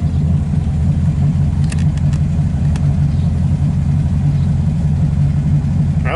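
A car engine idles steadily at a stoplight with no throttle, a loud low rumble close by and unchanging throughout.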